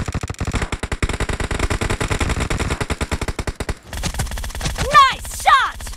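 Rapid sustained automatic weapon fire in the battle game PUBG, a dense rattling burst lasting several seconds before breaking off into sparser in-game effects and brief voice-like chirps.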